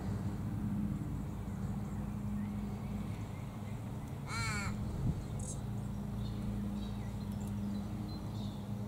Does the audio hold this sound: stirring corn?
no